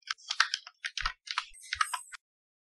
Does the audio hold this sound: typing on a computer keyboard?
yes